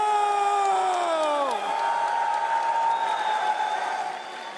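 Crowd at the Dota International esports event cheering for team Heroic, a loud sustained roar with whoops and applause filling the whole stretch, easing off slightly near the end.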